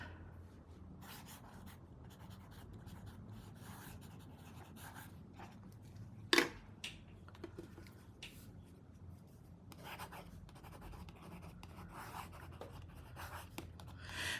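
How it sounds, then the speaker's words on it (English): Stylus writing on a reMarkable Paper Pro tablet screen: a faint, textured scratching and rubbing of pen strokes continuing steadily in near silence, with one sharp tap partway through. "I'm going to write"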